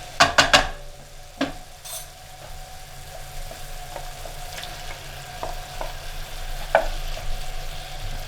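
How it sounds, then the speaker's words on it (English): Shrimp being stirred into cheesy grits with Monterey Jack and cheddar in a pot: a few sharp utensil clanks at the start, then soft scraping stirs and an occasional clink, close by, with no talking. "I'm going to stir in the shrimp"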